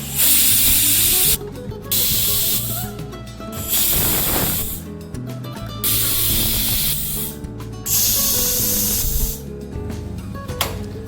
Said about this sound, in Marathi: आणि चार ते पाच शिट्ट्या आपल्याला काढून घ्यायच्या आहे